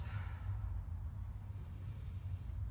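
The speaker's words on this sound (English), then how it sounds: "Deep breathing." A person breathes deeply during a yoga warm-up before back bends, drawing slow, close, airy breaths with a soft hiss, steady and unbroken, with no talking.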